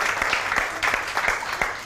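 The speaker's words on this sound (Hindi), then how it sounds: "भाई, इनकी हाइट पर तो तालियां बनती हैं" A studio audience claps steadily at a live weekend entertainment show, a dense, continuous burst of applause with sharp individual hand claps standing out, close and fairly loud, with no talk over it.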